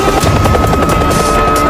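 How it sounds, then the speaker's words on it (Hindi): A helicopter's rotor thrums loudly and steadily, close and continuous, with rapid pulsing chop filling the whole moment as it arrives for a test. "हेलीकॉप्टर सही समय पर पहुंचता है और टेस्ट शुरू करने का इशारा करता है।"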